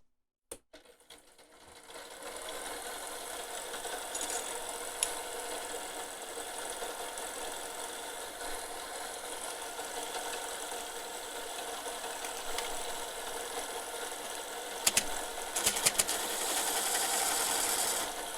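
A power tool cuts MakerBeam aluminium extrusions one after another, giving a steady, close, continuous whine with a rattling edge that runs for most of the clip, with brief sharper bursts near the end.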